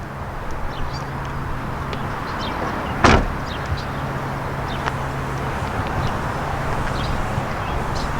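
A rear seat in a 2019 Mazda 6 folds down, a single solid thunk partway through, set against a quiet steady background hum with a few faint clicks after.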